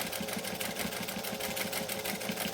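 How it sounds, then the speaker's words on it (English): Sewing machine running steadily as it stitches down the end of a fabric key ring wristlet, a close, continuous rapid mechanical chatter with no talking. "So I'm just going to sew down this end."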